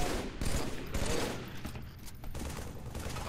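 A continuous, dense rattle of gunfire from a shooter video game, moderately quiet and unbroken throughout.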